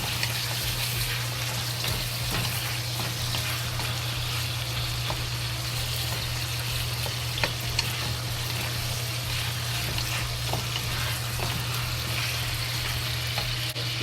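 Pork ribs fry slowly in a wok on low to medium heat, giving a continuous even sizzle with occasional faint ticks and spits under a low steady hum.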